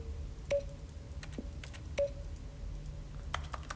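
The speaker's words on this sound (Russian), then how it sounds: "А я все еще сижу там и нажимаю на клавиатуру." Sparse keyboard button presses in the video game The Stanley Parable Ultra Deluxe, a few sharp clicks with short tonal beeps spaced irregularly over a faint steady hum, no talking.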